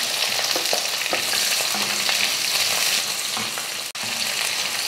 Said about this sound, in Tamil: வெங்காயத்தை வதக்கிட்டு